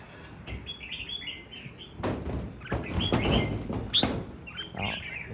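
Red-whiskered bulbul (chào mào) giving repeated bright chirping song phrases, fairly close and clear, over background noise with some thumping and rustling.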